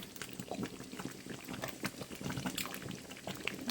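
Protein is poured into a simmering tomato stew, giving a soft, continuous wet splashing and bubbling at close range for a few seconds.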